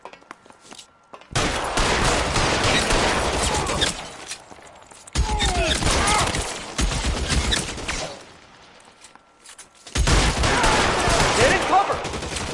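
Gunfire erupts in an L.A. Noire video game shootout, with three loud bursts of rapid shots and impacts separated by brief lulls, close and dense, with faint game voices between.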